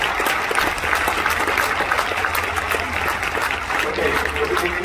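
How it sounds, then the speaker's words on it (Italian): Spectators at a tennis event in Rome applaud two players, Simona Halep and Carolina Kristova: a thick, continuous wash of clapping from a crowd, with voices mixed in. "Un applauso grande, signori, a Simona Halep e Carolina Kristova."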